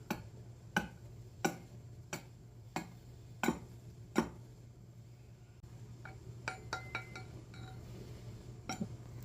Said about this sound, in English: That's why I use smashing axes together to tell people